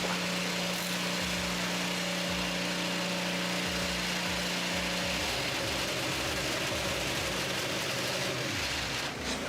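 IndyCar race cars lapping the track at the Monterey Grand Prix, their engines a loud continuous roar with shifting pitch as cars pass, heard from nearby.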